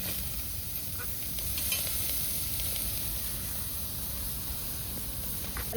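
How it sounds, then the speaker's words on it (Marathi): Onion dry-roasting in a pan for a village-style country chicken mutton curry, giving a steady soft sizzle and hiss with light stirring scrapes, close and continuous throughout. "तो कांदा असा कांदी चांगला भाजून घ्यायचा"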